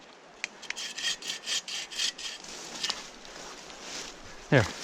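A hand saw rasps back and forth through a fallen log on a forest trail, with repeated rhythmic strokes close by and a sharp crack near the end, while people talk in the background.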